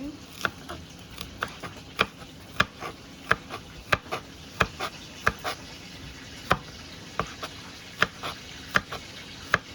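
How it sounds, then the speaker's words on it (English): Green onion chopped with a knife on a cutting board, giving a steady run of sharp, evenly spaced taps over a faint background hum, close and clear with no talking. "Now it's time to cut the green onion."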